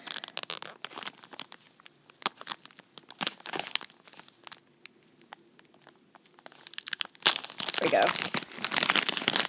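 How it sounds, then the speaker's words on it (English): Crinkling and tearing plastic as a tight Ziploc bag is pried open with a fingernail, bursts of close crunching that grow denser and louder at the end, with a voice speaking briefly. "I gotta get my nail in between to get this bag open."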